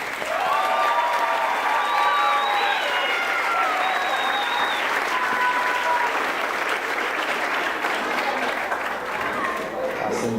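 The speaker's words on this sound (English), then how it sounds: "One more big round of applause for our graduates." A crowd at a 2017 OTA graduation ceremony claps for graduates, steady dense applause that fills the room for about ten seconds before thinning at the end.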